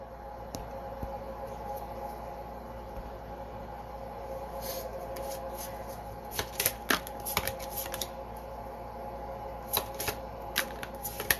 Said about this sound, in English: let's shuffle this because those cards were right there